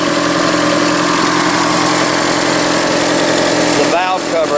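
A 1982 Chevrolet Camaro engine, third generation and fitted with a fuel cell, idles loud and steady after its first start in 20 years, with a speaking voice mixed in near the end.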